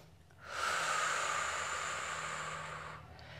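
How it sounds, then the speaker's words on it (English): A single long, deep breath, a smooth airy hiss drawn in close to the microphone, rises and holds for about two and a half seconds before fading, taken while holding a hip and glute stretch in a Pilates workout. "Breathing deeply."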